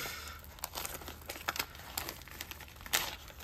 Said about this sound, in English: I might need to rip this a little bit